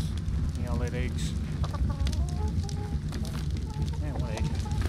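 Chickens in the video game ARK (Olympus map, Steampunk and Primal Fear mods) cluck in short, repeated bursts under steady background noise while a person talks over them.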